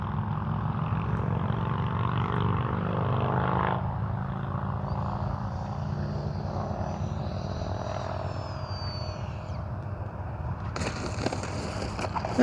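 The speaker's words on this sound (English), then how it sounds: "Take that landing now with takeoff flaps" A radio-controlled jet aircraft lands with its takeoff flaps set at an RC jet flying event, giving a steady, moderately loud engine roar with a high turbine whine that brightens and swells toward the end.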